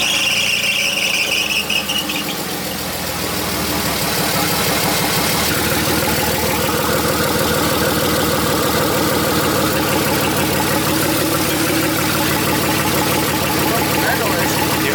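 A Mercedes engine idles steadily and loudly with a squeaky belt, a continuous rumble carrying a high squeal early on, as voices talk over it.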